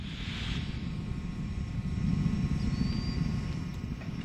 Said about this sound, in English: Discovery's 3 main engines throttle back up